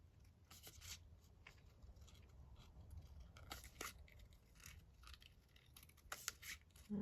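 Scissors cutting paper for crafting, a series of faint close snips and crisp crunchy cuts at an irregular pace over low background hum.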